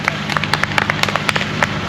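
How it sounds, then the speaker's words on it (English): Scattered clapping from a small outdoor tree-work crew after a maple removal between wires: a brisk, uneven run of sharp hand claps, moderately close, with no talk over it. "everybody give Dennis a round of applause"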